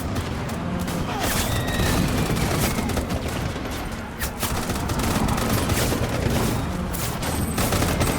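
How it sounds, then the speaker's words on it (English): Lewis gun in the game Death Stranding, dense continuous automatic gunfire with rapid overlapping bursts and booms filling the whole stretch loudly, faint voices mixed beneath. "You've even got like a Lewis gun there"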